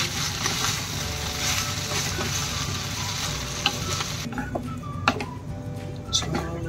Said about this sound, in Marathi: सर्व भाजी आणि भात मिक्स करून घेऊ.